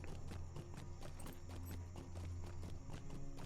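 Horse hooves clip-clop at a steady walking pace in Lord of the Rings Online, regular soft knocks repeating evenly over a low constant background hum.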